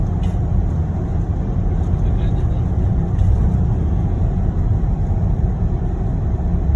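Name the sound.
motorcycle engine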